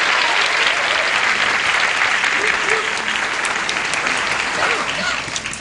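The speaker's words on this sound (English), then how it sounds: "Applause, applause, applause." A game show studio audience breaks into loud, sustained applause, a dense wash of many hands clapping that stays steady before easing slightly at the end.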